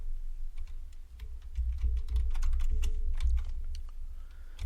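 Close, quiet clatter of fingers typing on a computer keyboard, irregular bursts of key taps over a low background hum with no talking.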